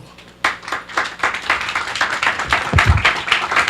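A church congregation claps together in a fast, steady rhythm, loud and close, with cheering voices mixed in and building toward the end.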